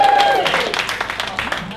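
Brief burst of cheering and applause from a stand-up comedy audience at a festival show, loud at first and fading over under two seconds, with a voice tone at the start.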